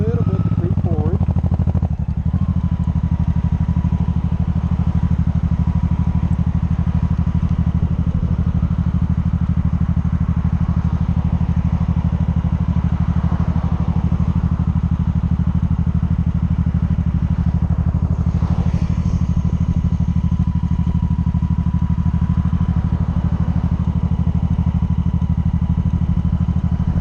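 A motorcycle engine idles steadily with a deep, even throb as the rider releases the clutch to creep forward, a continuous loud rumble with faint clatter, while a voice talks over it.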